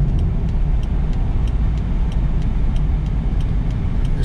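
A 2003 Chevrolet Corvette drives along a road, its steady engine and tyre roar forming a constant, loud low rumble with faint regular ticking above it throughout.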